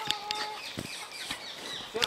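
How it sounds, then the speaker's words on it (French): Young rooster clucking and squawking in short bursts in an urban permaculture garden in Aulnay-sous-Bois, fairly close, with people talking in between. "C'est le coq? Oui, le petit coq."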